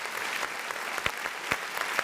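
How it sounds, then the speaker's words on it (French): Audience applause from a crowd, a dense, steady wash of clapping held at an even level, with a few sharper claps standing out. "Applaudissons, s'il vous plaît, pour Willy la chenille"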